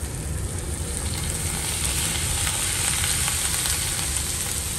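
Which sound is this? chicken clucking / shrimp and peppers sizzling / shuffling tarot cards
shrimp and peppers sizzling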